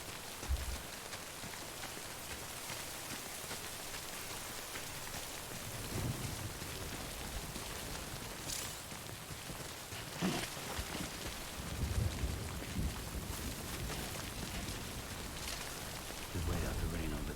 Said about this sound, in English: Just wait out the rain over there.